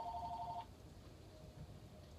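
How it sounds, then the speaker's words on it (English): An indoor telephone rings once, a short electronic double-tone trill in the background, then fades to quiet room noise. "I don't know if you hear that phone"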